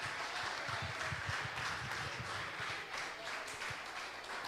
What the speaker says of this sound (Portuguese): Aplauda Jesus para a glória de Deus.